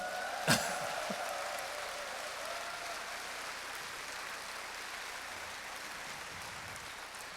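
An audience applauds at a live jazz concert in Changwon, a dense even patter of clapping that holds steady throughout, with one sharp louder crack near the start.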